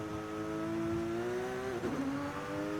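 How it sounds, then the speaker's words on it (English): A Porsche GT2 RS with upgraded cams and turbo revs in Forza Horizon 5, a loud sustained engine tone climbing steadily, then dropping sharply with a brief shift before settling lower. "The cams are done, so it revs higher than the standard GT2 RS."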